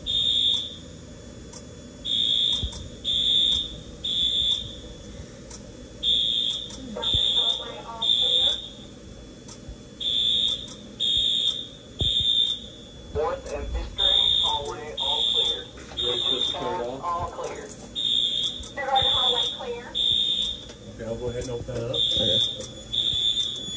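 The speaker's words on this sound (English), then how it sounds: "You want to hit silence alarm, the second one, and then hit reset." An elementary school fire alarm sounds during a fire drill, a loud repeating electronic horn pulsing in steady bursts about once a second, with people talking over it near the alarm panel.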